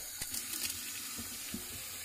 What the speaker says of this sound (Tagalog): ngayon ay lalagyan natin ng tubig